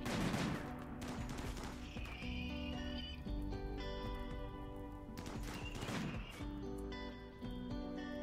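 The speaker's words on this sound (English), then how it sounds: "Yeah, the auto cannons are still doing their thing." Auto cannons fire in the RimWorld video game, a quiet, steady clatter of rapid shots that repeats throughout, heard at low level with no talking.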